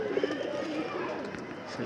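Pigeons bathing together as a flock, with soft cooing and bird calls close by over a steady background of splashing, scuffling and movement.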